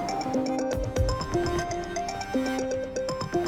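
A mobile phone rings with an incoming call, playing a bright melodic ringtone of repeating electronic notes over some soft background noise.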